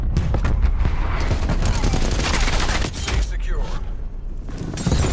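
Rapid gunfire aimed at a HARP spy plane in Call of Duty: Black Ops Cold War, dense bursts of shots loud and continuous throughout, with speech mixed in.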